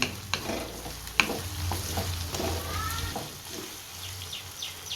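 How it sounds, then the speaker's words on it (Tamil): Onion mixture with mint and coriander leaves being sautéed in a pan for chicken tikka biryani, a steady soft sizzle with scraping stirs and a few sharp utensil knocks. "எல்லாத்தையும் சேர்த்து நல்லா வதக்கி விட்டுடலாம் வதக்கும் போது புதினா கொத்தமல்லி சேர்த்து வதக்கும் போது நல்ல வாசமாக இருக்கும்"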